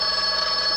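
An old telephone rings in a 1952 comedy film: a brief, steady, bright bell tone sounds alone and close, without talk.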